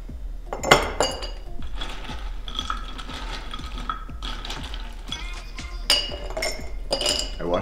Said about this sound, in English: first we're gonna start off throwing some ice into our mason jars